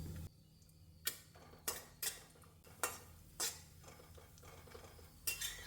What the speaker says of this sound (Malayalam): ഇതിലേക്ക് ഒരു സ്പൂൺ നെയ്യ് ഒഴിക്കാം ഒരു അണ്ടിപ്പരിപ്പ് വറുക്കാം